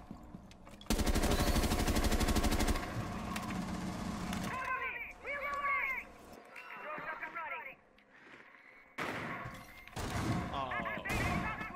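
Gunfire in Rainbow Six Siege, a dense loud burst of shots early on followed by scattered reports and game effects, with players talking over it.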